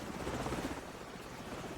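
A helicopter hovers out of sight in the Modern Warfare video game, its rotor a muffled, steady low throb heard faintly and at a distance, with no talk over it.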